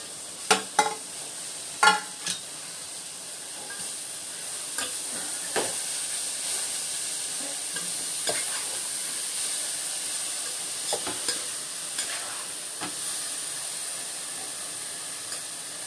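Carrots and onions sauté in a pan for carrot rice. A steady, fairly quiet sizzle and hiss runs throughout, broken by sharp stirring scrapes and clinks near the start and scattered later.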